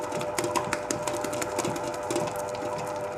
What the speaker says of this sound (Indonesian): Di sini saya menggunakan tipe mixer Taiwan ukuran 15 liter